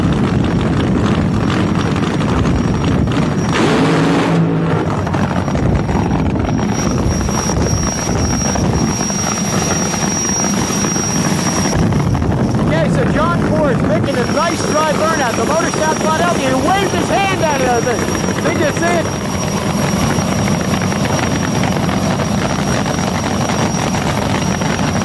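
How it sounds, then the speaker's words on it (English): A loud jet funny car engine at a drag race roars continuously at full power, a dense rumbling whine that holds steady throughout, with speech faintly mixed in. "Fired and running is the jet car."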